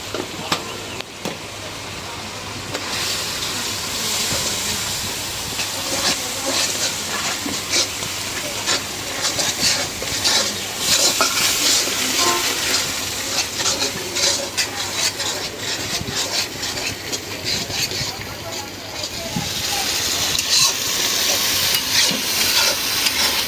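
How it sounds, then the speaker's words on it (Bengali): Spice paste for a fish curry sizzles and hisses steadily in hot oil as it is stirred and fried, a loud continuous crackle with scraping stir strokes throughout and no talk. "মশলাটা ভালো করে কষাই নিচ্ছি, একদম তেল উঠে গেছে।"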